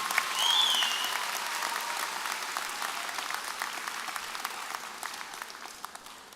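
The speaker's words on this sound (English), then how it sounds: "everyone join me in one more well-deserved round of applause for our Distinguished Student of the Year, Domenico Guadalupe" A large crowd at a university freshman convocation applauds a student honoured as Student of the Year with sustained, steady clapping, and a brief whistle cuts through near the start.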